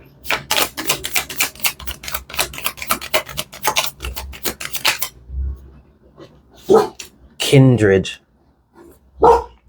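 A dog gives a few short barks and a drawn-out yelp-like whine indoors, close and loud, following a long run of rapid rhythmic clacking, with a person speaking briefly between the sounds.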